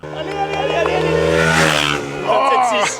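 A loud, high-revving MotoGP motorcycle engine in a racing video game whines steadily and shifts pitch, with a voice speaking over it partway through.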